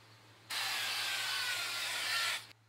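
A single continuous aerosol cooking oil spray hisses steadily onto an empty frying pan for about two seconds, close and clear, then cuts off abruptly.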